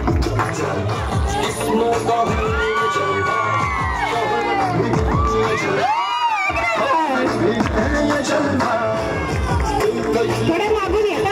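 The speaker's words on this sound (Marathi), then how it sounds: "एकदा जोरदार टाळ्या मंडळींसाठी" A group of women at a Mangalagaur haldi-kunku gathering is met with loud, continuous cheering, shouts and whoops from the crowd, with voices calling out throughout and a brief lull near the middle.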